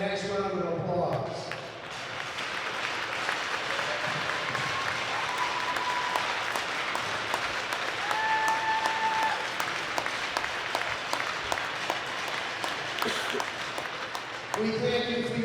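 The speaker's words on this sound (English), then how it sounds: "I would ask that you give them a nice round of applause." Crowd at a girls' high school hockey game applauds veterans and military personnel, a steady wash of clapping and cheering that runs the full length, with an announcer's voice heard over it at moments.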